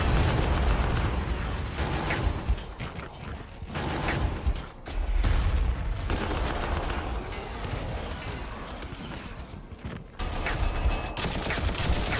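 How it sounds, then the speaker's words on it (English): Ork Stompers firing in a Warhammer 40,000 strategy game, a loud, dense barrage of booming explosions and mechanical clatter rolling on continuously, with brief dips between volleys. "Stompers firing into our forces."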